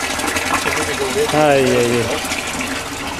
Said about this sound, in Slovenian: kolektor, pumpo in voda teče, ne?